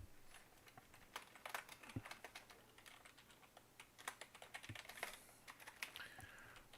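Quiet, irregular keystrokes on a computer keyboard, with rapid bursts of clicks and short pauses between them, heard close up in a calm indoor room.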